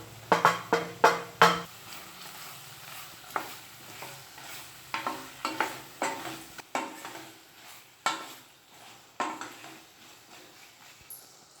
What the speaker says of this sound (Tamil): இப்போ இதில் கட் பண்ணி வச்சுருக்கிற தக்காளி ஆட் பண்ணிக்கலாம்.